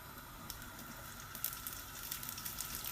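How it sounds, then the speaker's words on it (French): Tunisian fricassé dough fries over medium heat in hot oil in a pan, a soft, steady sizzle with faint crackles and pops, heard quietly with no talk. "je vais venir faire frire à feu moyen"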